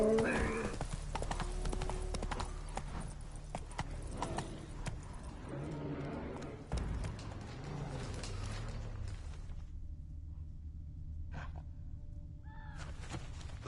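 Horse hooves clip-clop steadily while riding in The Witcher 3, with game ambience and brief music-like tones toward the end; a short neigh may be heard.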